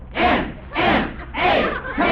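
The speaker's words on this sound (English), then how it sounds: "the crowd went wild" Stadium crowd at a football game, rendered as a radio sound effect, roaring and cheering in three or four big rhythmic surges, loud and full, like chanted bursts with brief dips between them.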